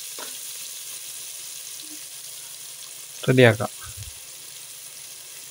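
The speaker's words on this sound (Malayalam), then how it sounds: "ഈ സവാള ഒത്തിരി വഴണ്ട് വരേണ്ട ആവശ്യമില്ല." Onions sauté in a pan for ghee rice with a soft, continuous sizzle. A person speaks briefly partway through, and the frying continues beneath the voice.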